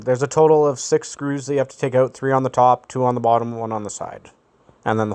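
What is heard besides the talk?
No everyday noise stands out behind the speech.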